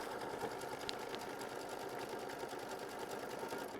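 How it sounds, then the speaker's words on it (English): Sewing machine tacking a piece of fabric down with a machine stitch, a steady, close, even mechanical whir and rapid needle patter throughout, with no talking. "we're going to show machine stitch step 7, and we're going to tack that piece of fabric down"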